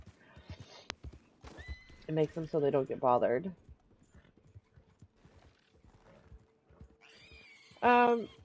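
Horse in a video game being walked past alligators during bonding, with a neigh or whinny and clip-clop hooves, plus soft mechanical clicks, heard alongside a person talking.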